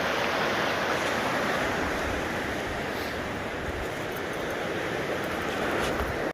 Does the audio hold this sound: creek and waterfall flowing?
yes